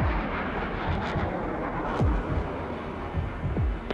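An RAF jet flying low-level at 450 mph, about 1,000 feet up, makes a dense, steady roar that fills the air, with faint thumps and rushing swells over it and no talking.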